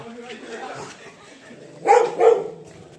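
A nearby dog on a terrace near Visapur Fort, Pune, gives two quick barks in a row after a stretch of low, murmured talking.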